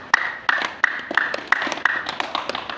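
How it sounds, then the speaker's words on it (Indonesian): A small congregation at a church sermon claps for someone, a sparse, fairly close run of distinct claps in an uneven rhythm with a sustained tone ringing behind them. "Tepuk tangan buat dia"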